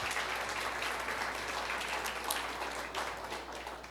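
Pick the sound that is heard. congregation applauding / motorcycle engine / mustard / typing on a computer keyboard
congregation applauding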